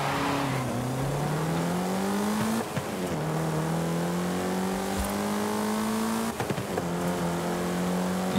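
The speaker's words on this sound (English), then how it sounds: "It's a three-wheeler Reliant." A Reliant three-wheeler engine in Forza Horizon 5 revs up and holds a steady, whining drone through several gear shifts, loud and close throughout, with no talking.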